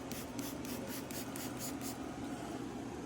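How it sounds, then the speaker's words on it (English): Rubbing alcohol is sprayed onto a wheel in a burst of about nine quick, close hissing spritzes during the first two seconds, followed by quiet low background hum. "I'm going to use rubbing alcohol. Just going to spray it on here."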